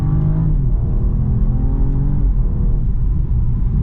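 A BMW 435i six-cylinder engine revs steadily, its deep exhaust note rising and falling under load, with a small exhaust pop near the start.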